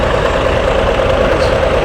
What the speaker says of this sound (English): That's his tractor.